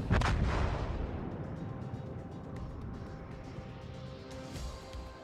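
Heavy naval gunfire from warships in World of Warships, including a Yamato battleship and the destroyer Akaze being shelled: a loud, dense, rumbling barrage that starts hardest and keeps pounding without a break, with no voices.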